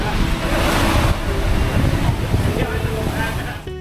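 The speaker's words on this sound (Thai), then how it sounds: "ออกมาดูพายุขึ้นฝั่งค่ะ ดู ลมวันนี้ค่ะ" Strong storm wind at the sea in Hoi An, Vietnam, buffeting the microphone with a heavy roar of surf behind it, loud and steady, easing slightly near the end.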